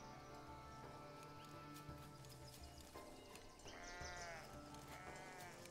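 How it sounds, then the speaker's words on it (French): Sheep bleat in the farming and city-building game Foundation, with several wavering cries rising clearly over a constant background of game ambience and music. "Regardez-moi ces moutons bien dodus."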